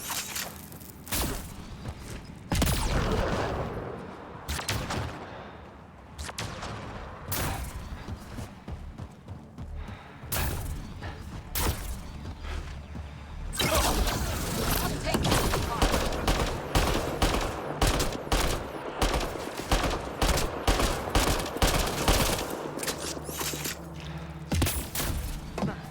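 Rapid bursts of video game gunfire crackle throughout a shooter match on Insanity difficulty, dense automatic volleys and single shots with thuds, interrupted by brief pauses and overlaid game voice lines.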